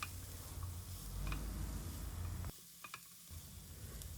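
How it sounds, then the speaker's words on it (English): A spatula stirs seasonings through sautéed broccoli and paneer in a pan, producing a steady soft sizzle with faint scraping ticks, briefly dropping quieter near the end before resuming. "Let's stir and mix these seasonings well with the veggies."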